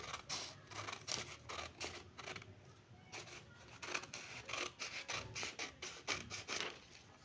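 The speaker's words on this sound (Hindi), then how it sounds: "इस तरह से हम इसको काट देंगे" Scissors snip through paper while a simple paper fan toy is made at home, a rapid series of close, crisp cuts with short rubbing pauses, fairly quiet throughout.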